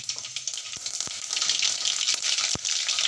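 A pinch of mustard seeds sizzling in hot oil on a low gas flame, a bright crackling hiss with several sharp pops and spits, close and steady throughout with no talking.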